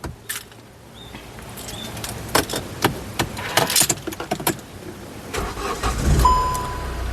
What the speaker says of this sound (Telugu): సింగిల్ సెల్ఫ్ లో కార్ స్టార్ట్ అవుతుందండి